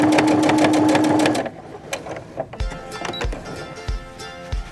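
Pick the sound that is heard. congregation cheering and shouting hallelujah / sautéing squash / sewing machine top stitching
sewing machine top stitching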